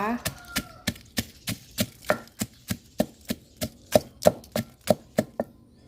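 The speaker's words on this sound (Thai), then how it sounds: "ตอนนี้แม่น้องรีก็มาตำพริกกระเทียมหอมแดงก่อนนะคะ" Rhythmic, evenly spaced thuds of a pestle pounding chili, garlic and shallots in a mortar, about twenty strikes close by, with no talking.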